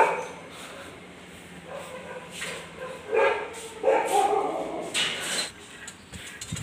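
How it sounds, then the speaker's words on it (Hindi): Several dogs bark, yip and whimper outdoors at moderate distance in irregular bursts, growing louder toward the middle, against quiet background noise with no talk. "बाहर कुत्ते भौंक रहे हैं"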